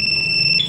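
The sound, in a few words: Yamaha Fazzio scooter anti-theft alarm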